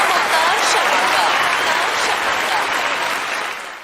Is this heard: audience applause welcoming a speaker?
yes